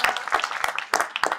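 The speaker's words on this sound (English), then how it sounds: "Please clap for my team." Audience applause at a film festival press meet in Melbourne, a burst of claps rising and falling in waves for about a second and a half, fairly close and loud.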